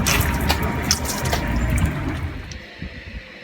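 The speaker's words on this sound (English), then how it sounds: "we're getting some water from the local water fountain" Water splashing and running steadily from a public drinking fountain on the island of Ischia, Italy, a continuous close gush that eases and thins toward the end.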